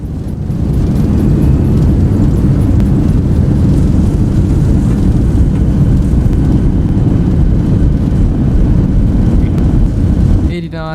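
A Boeing 737 airliner in X-Plane 11 roars with engine reverse thrust during its landing rollout. The broad, loud, steady rumble holds for about ten seconds and then cuts off abruptly.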